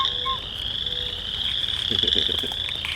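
A dense chorus of frogs croaks and trills continuously in the Thundering Waters Wetland, with a steady high-pitched drone and pulsing calls nearby.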